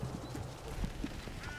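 Chickens cluck in Hogwarts Legacy, a handful of short, scattered clucks over a steady wash of in-game ambience.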